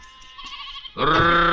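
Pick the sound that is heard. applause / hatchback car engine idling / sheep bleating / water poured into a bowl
sheep bleating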